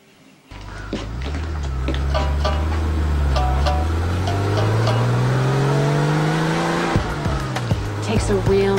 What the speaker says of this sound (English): Takes a real man to drive a car like this, Max.